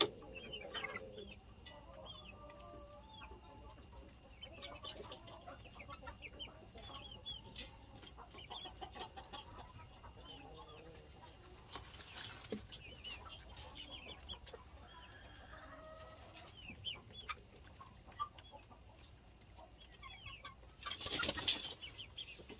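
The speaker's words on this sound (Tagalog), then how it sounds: "Our growing chickens, there are different kind of varieties of the chickens." Chickens of several varieties on a farm cluck and chatter steadily at low to moderate level, with scattered soft calls and a brief burst of wing flapping near the end.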